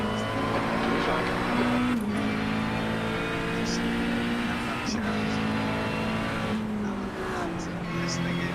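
A fast race car in a racing video game at Spa approaching and roaring past, a steady loud engine drone with gear shifts and pitch changes, other cars' engines blending in throughout.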